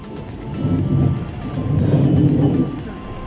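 An eight-cylinder car's engine running, a throaty low hum that swells, eases briefly, then swells again before settling, heard close up.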